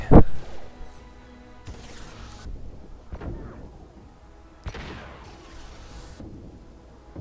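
Gunfire and heavy impacts in the video game Mass Effect 2: a sharp blast at the start, then several separated booming shots and crashes at mid distance, loud against a quiet background, with no talking.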